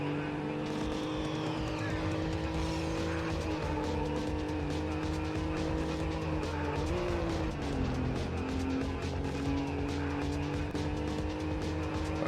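A Ferrari racing in the PS1 game Need For Speed: High Stakes, with a continuous engine whine shifting pitch, tire squeal and a brief crash scrape midway, steady and loud throughout.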